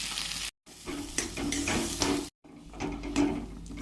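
A ground green pea filling fries in mustard oil, giving a continuous close sizzle and crackle with scraping and stirring of a spatula against the pan, cut off by two brief silent gaps.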